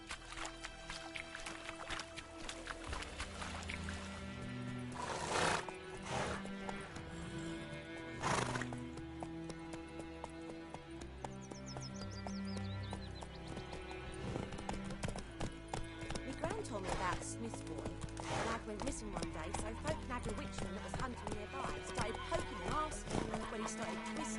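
Roach, the horse from The Witcher video game, galloping with rapid clip-clop hoofbeats and neighing amid dense game sound and music, with a voice talking over it.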